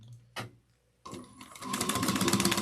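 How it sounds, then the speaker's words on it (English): A sewing machine stitches a seam at an angle, starting after a couple of faint clicks and a brief pause, then running in a fast, steady rapid patter that builds in loudness. "I'm going to just sew at an angle."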